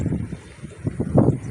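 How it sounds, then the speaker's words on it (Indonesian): Strong outdoor wind buffets the microphone in rumbling low gusts that swell and fade, loudest near the end, with no other clear sounds. "Ini anginnya cukup kenceng ya teman-teman. Ini mungkin suara saya terganggu sama suara angin."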